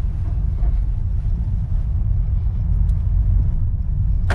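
A 2020 Honda Jazz ZX top model with CVT driving in third gear, a steady low engine and road rumble with wind buffeting the cabin, constant and fairly loud without speech.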